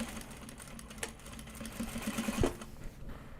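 A sewing machine winds a bobbin with a steady, close mechanical whir that holds for several seconds and briefly swells near the end, with no voices.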